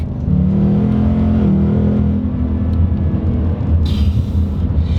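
A Ford Mustang RTR Spec 5 with a 10-speed transmission pulls hard, its engine note rising in a loud, continuous rumble and growl heard from close by, settling briefly before a sharp high-pitched whine near the end.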